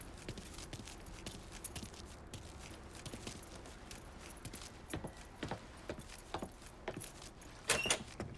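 Keys jingle and clink in a few short bursts over a low rumbling background, with a brighter rattle near the end.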